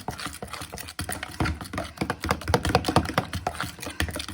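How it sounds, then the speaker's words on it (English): A fork whisks pumpkin bread batter in a bowl, giving quick, irregular tapping and scraping strokes close by, fairly loud and continuous with no talk. "I'm just gonna keep stirring that in, whisking that in with my fork."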